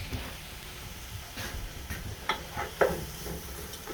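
Garlic and sliced onions sizzle in a pan with a steady close frying hiss, punctuated by a few light utensil ticks and stirring clicks.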